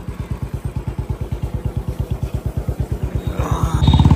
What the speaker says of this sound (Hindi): विदा भ गेलौ हम सब रोड में मोटरसाइकिल से।